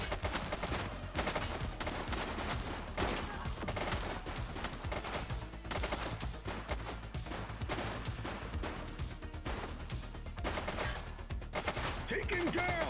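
Sustained rapid gunfire in the police video game The Precinct during a shootout with an armed suspect, a loud, nearly unbroken fusillade with occasional voices calling out under it.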